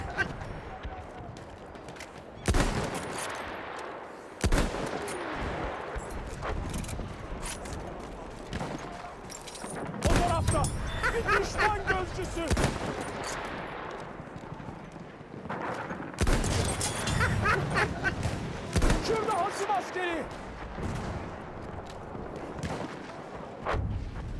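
Gunfire and explosions crackle across a Battlefield 1 battle at the Fao Fortress, with sharp bursts and heavier booms repeating at irregular intervals amid constant battlefield noise, and voices talking over the fighting.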